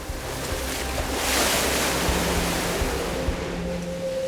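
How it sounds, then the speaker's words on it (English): Large artificial waves generated by powerful machinery in a huge wave basin nine meters high holding nine million liters of water, a continuous loud rushing surge with a low mechanical hum underneath, no voices. "the largest artificial waves in the world are generated thanks to very powerful machinery"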